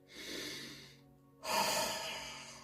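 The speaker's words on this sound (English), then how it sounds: "Take a deep breath." Two slow, deep breaths close to the microphone during a calm relaxation session, a long inhale then, after a short quiet gap, an airy exhale.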